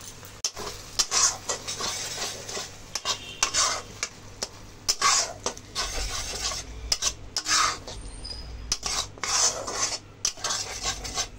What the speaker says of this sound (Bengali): এবার দিয়ে বেশ কিছুক্ষণ মশলার সাথে কষিয়ে নেব।